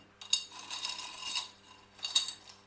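Small hard clay balls clatter and rattle into a plant pot in two short pours, with a light clinking texture, close and fairly quiet.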